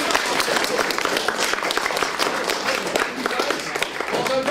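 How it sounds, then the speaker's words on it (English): A round of applause from an audience at a presentation event, loud and continuous dense clapping with some crowd noise mixed in and a faint voice or tone near the end. "let's give these guys a round of applause"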